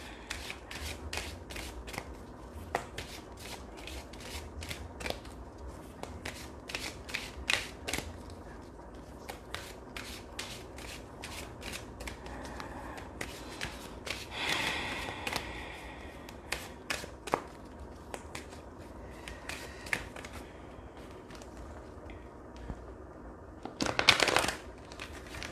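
Secret Language of Light oracle cards being shuffled by hand, long stretches of quick, quiet riffling and flicking taps, with a louder burst of shuffling near the end.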